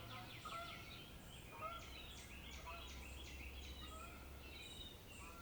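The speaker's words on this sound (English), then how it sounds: "Good morning, geese." Geese honk and call outdoors during a morning restorative yoga session, a scatter of overlapping calls, moderately distant, over a steady low background hum.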